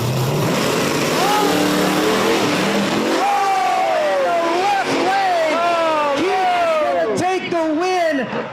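Drag race cars, including a Nova, rev loudly at the starting line of an Outlaws meet at Virginia Motorsports Park, engine pitch rising and falling in repeated bursts under steady commentary.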